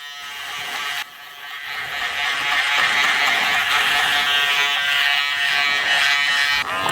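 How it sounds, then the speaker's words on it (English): An electric shaver buzzes steadily and close during a haircut, a continuous high whirring hum that starts after a brief pause and keeps running. "Moving on to my shaver now."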